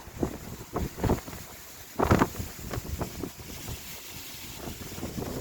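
Wind gusts buffet the microphone on a hilltop pavilion overlooking a city park, a steady rushing roar with several louder bursts, no speech heard.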